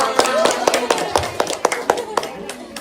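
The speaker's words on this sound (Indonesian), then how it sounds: "Kasih aplaus dong" A small group of people claps in a village gathering, producing distinct sharp, uneven hand claps over several seconds, close and fairly loud.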